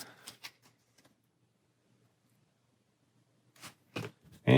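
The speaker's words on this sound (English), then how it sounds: "And shuffle for the round." Cards shuffled for the Aeons End Legacy deck-building board game, a few short papery riffling bursts at the start and again near the end, separated by quiet, with close, crisp snaps.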